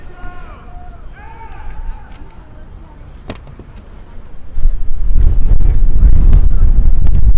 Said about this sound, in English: Very windy here, folks. Not sure if you can hear that,